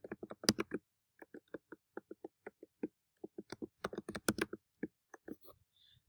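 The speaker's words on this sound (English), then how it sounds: "I will be typing one in now" Password being typed on a computer keyboard, a close, quiet run of separate key clicks in irregular bursts with short pauses between them, in an otherwise silent room.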